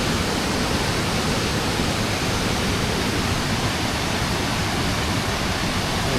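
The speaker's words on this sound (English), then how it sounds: "Waterfalls." A waterfall's rushing water makes a loud, constant, broadband roar that holds steady throughout.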